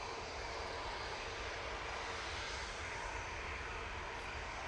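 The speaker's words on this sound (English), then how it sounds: "A321 Neo coming on." A Jet2 Airbus A321neo departs Manchester Airport, its engines a continuous broadband roar that holds steady and loud throughout with no voices.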